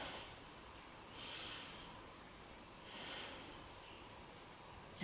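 Slow, deep breaths during a beginner yoga exercise come in two soft, airy swells a couple of seconds apart, quiet and close with no talking.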